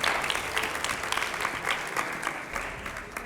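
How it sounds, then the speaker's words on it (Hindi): A studio audience claps loudly and steadily on a Hindi talk show featuring actor Ravi Kishan, a dense roar of many hands throughout, with no voices over it. "आइए जरा जोरदार तालियां हो"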